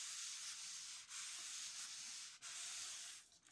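Card rubbed over a gel plate inked with alcohol inks makes a steady, soft, hissing scrub, close and continuous, with a few brief pauses between strokes.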